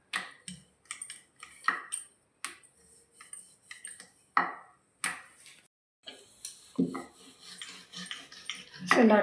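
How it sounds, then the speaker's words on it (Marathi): A rolling pin working balls of bhatura dough on a board, giving irregular knocks, taps and clatters separated by short pauses. "पिठाचा गोळा घ्यायचा, अशा प्रकारे लाटून घ्यायचा"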